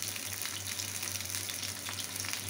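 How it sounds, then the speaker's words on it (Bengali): Stuffed pointed gourd (potol dorma) frying lightly in oil in a pan, a faint, steady sizzle with soft crackles and a low hum beneath, no voices. "হালকা করে ভেজে নিলাম।"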